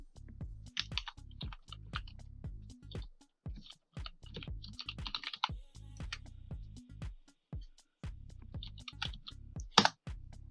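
Typing a command on a computer keyboard to set up Sphinx documentation, with a steady run of close, crisp key clicks in uneven bursts and short pauses, and one louder keystroke near the end.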